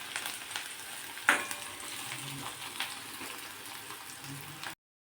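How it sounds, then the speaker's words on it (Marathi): Onion frying in oil in a pan, stirred until reddish, for a ghevada bean curry: a steady soft sizzle with a sharp utensil clink near the start and light scraping stirs, no talk. "आता हा कांदा जो आहे तो लालसर किंवा तांबूस होईपर्यंत तेलावर परतून घेऊ।"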